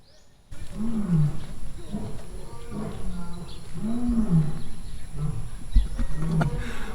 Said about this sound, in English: I don't know if you can hear that, but it's a lion.